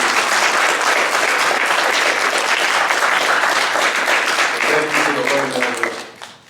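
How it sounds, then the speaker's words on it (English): Audience applause for panelists at an Islam and hip hop discussion, a loud sustained wash of clapping from a large crowd that gradually thins and fades out at the end, with a voice briefly audible underneath. "Let's give a round of applause for our panelists."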